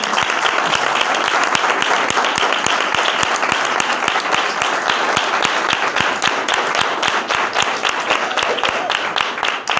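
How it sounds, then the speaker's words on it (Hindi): A large church audience at an Easter sermon claps loudly and steadily for nearly ten seconds, a dense, close wash of hand claps with no pause. "क्या आप उसके नाम के लिए जोरदार तालियां नहीं बजा सकते?"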